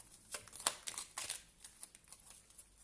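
Tarot cards being shuffled for a reading, heard as quiet, irregular papery riffles and flicks close by, with no talking.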